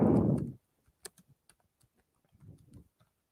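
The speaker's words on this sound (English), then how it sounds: "So let me type it in." A computer keyboard clicks in a handful of sparse, quiet keystrokes after a brief louder sound at the start.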